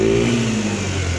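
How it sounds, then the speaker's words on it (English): A warmed-up GY6 scooter engine, just fitted with a new fuel filter after a failed reusable one, revving briefly as throttle is given, a close mid-pitched buzz that rises then settles. "Give a little gas."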